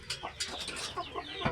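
A flock of chickens crowded together clucks and squawks in quick overlapping bursts, close and fairly loud, with several clucks packed into under two seconds.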